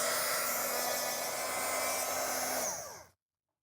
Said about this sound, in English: now I'm gonna turn my heat gun on just for a second and dry this really quickly